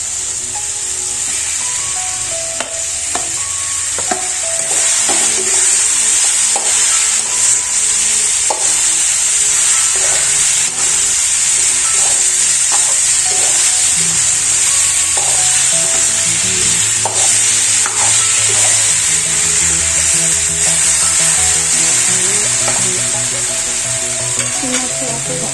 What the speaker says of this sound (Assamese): আলু আৰু বেঙেনাখিনি ইয়াত দি দিম